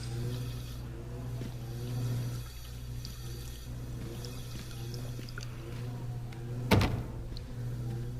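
A locked door in The Park video game gives one sharp rattling thunk as someone tries it, set against a steady low hum and soft background noise.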